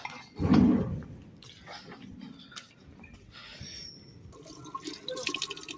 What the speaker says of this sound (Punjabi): ਥੋੜਾ ਜਿਹਾ ਪਾਣੀ ਉਹਨੂੰ ਜੱਗ 'ਚ ਪਾ ਲੈਂਦੇ ਹਾਂ